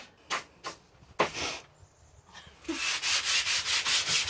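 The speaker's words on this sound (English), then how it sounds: "Just sanding away." Wooden 2x4 wall studs being sanded by hand, a few separate rasping strokes followed by a steady run of rhythmic scrubbing, close and clear, with no talk.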